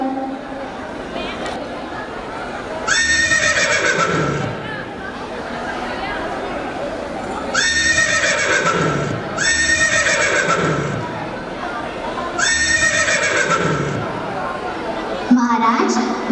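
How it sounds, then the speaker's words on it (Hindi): A horse neighs repeatedly at a staged school annual function, four loud whinnies rising over a busy backdrop of voices, hoof clatter and crowd noise. "आपके लिए मैं घोड़ा लेके आया हूँ"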